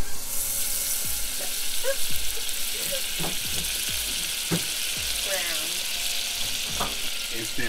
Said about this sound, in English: We're gonna go ahead and add 4 tablespoons of butter.